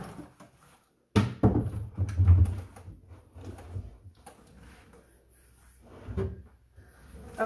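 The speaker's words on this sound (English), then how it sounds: "Let me pick this up. This is my bottom drawer." A wooden bottom drawer with a faux wood-grain finish is lifted and handled, giving a few close knocks and scrapes, with a louder clatter early on, then quieter shuffling movements.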